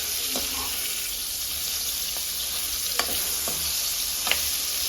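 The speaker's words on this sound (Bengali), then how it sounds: "দু থেকে তিন মিনিটের মধ্যে আমার চিংড়ি মাছগুলো ভালো করে ভাজা হয়ে যাবে" Prawns fry in a pan with a steady, close sizzle, with a few sharp clicks and taps from stirring scattered over the constant hiss.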